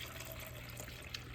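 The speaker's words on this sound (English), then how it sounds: "So I'm going to go ahead and fill that up with some water that I have here." Water poured from a cup to top up a cat water fountain gives a soft, steady trickle for a moment. It is faint and alone, with a low hum underneath.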